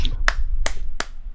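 Three sharp hand claps close to a microphone, evenly spaced about a third of a second apart, loud and crisp over a low background hum.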